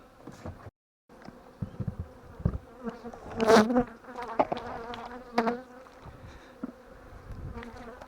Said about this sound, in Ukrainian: Бо он який напад бджіл йде.